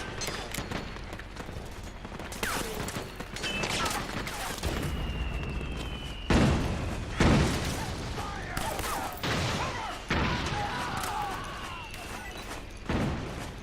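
Gunfire in the Metal Gear Solid 4 video game, bursts of shots and heavier booms spread across the scene amid mechanical clatter, with game voices shouting in between.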